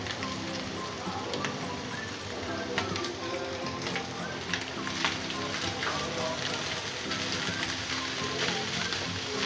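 Carrots and capsicum sizzle steadily in a hot pan, a dense, even frying hiss with scattered crackles and pops that runs without a break.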